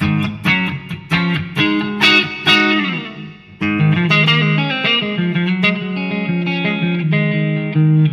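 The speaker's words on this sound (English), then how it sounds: "So this is just reverb from the WAZA." Clean electric guitar chords and single notes ringing out with lush reverb tails from a WAZA Tube Amp Expander, played alone with a pause before a new phrase begins.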